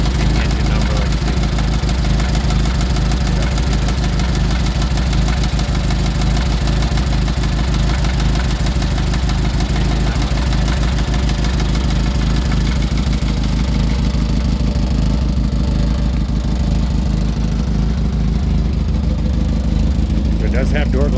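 A 1940 Austin Bantam Riviera engine idles steadily and loudly up close, a continuous even rumble with light mechanical clatter running unbroken throughout.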